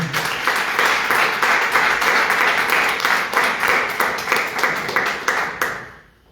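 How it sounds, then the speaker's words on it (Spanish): A church congregation applauds during a service, with dense, loud clapping in a steady pulsing rhythm lasting about six seconds before tapering off. "dale un aplauso entonces al Señor"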